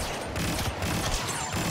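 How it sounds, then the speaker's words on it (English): Rapid gunfire from a Stinger pistol in a Star Wars video game, a dense, loud burst of overlapping shots with game effects running throughout the short stretch. "Stinger pistol got somebody"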